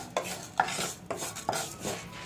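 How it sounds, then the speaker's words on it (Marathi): Fenugreek seeds sautéed in a little ghee in a hot kadhai, with a spoon scraping and stirring in a steady rhythm of about four strokes over a soft sizzle, close and without voices. "तूप घेतलेलं आहे आणि त्यात ही मेथी परतून घ्यायची आहे"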